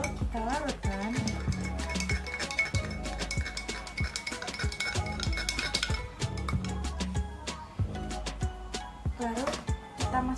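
A spoon stirs salt into water in a glass, giving rapid, repeated metallic clinks against the glass that continue steadily for several seconds, with a voice talking faintly underneath.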